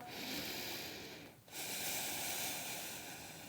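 Breathing in downward dog yoga pose during a vinyasa flow: steady, close, airy breaths with a brief pause midway before the next breath continues.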